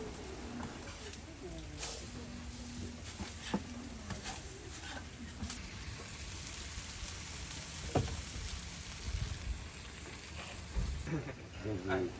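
An okonomiyaki topped with egg sizzles on a hot griddle at a Japanese food stall, a steady soft hiss heard from close by under crowd chatter and occasional clinks.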